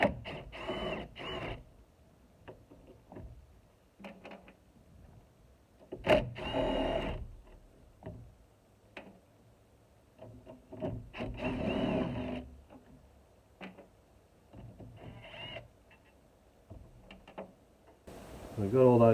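Intermittent metallic clicks and ratcheting taps while undoing bolts on a Nissan Patrol ZD30 diesel engine intake, short scattered bursts spaced by quiet pauses, close and moderately loud.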